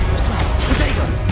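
A Confringo blasting spell goes off in Hogwarts Legacy, a loud crashing burst over dense low rumbling combat noise lasting the whole moment, with no clear break between impacts.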